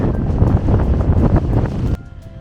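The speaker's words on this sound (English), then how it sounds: "Very, very windy." Loud, blustery wind buffets the microphone in heavy low rumbling gusts on a Peak District walk, then drops abruptly to a quieter hum near the end.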